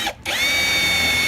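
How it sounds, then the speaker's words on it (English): A power drill bores a hole with a 15/64 inch bit, a loud close whine that dips briefly at the start, then runs steady and high-pitched to the end. "So I'm going to go with a 15/64 inch drill bit."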